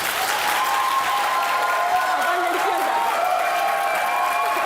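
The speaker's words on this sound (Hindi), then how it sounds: "जिसका ख्याल है ये राउंड अफान वहीद जीते वो तालियां बजाएं।" A studio audience on a Pakistani comedy talk show claps steadily in a continuous even wash, with faint voices and a tonal hum running beneath the clapping.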